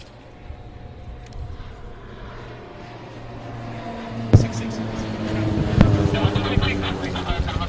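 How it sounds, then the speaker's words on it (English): Helicopters fly over Uganda's 60th Independence Day celebration, a low rumbling engine drone that grows louder and nearer across the span, with wind buffeting and faint crowd noise. "In the lead is the helicopter flying the Uganda flag"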